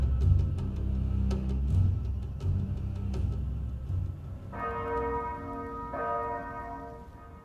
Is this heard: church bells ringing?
yes